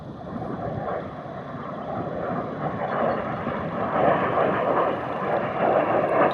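A military aircraft flies low over open farmland, giving a steady, loud roar that swells slightly as it passes. Wind buffets the microphone throughout, and no one speaks.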